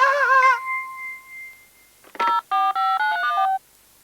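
A telephone is dialed: a warbling ring tone and a held dial tone sound first, then a short clatter and a rapid series of five loud, clean keypad tones at close range.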